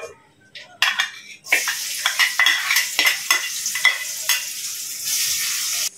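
Fish frying in a pan with pointed gourd, potato and papaya, a steady close sizzle broken by clattering spatula stirs and scrapes against the metal.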